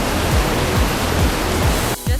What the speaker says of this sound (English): water coming out of the floor.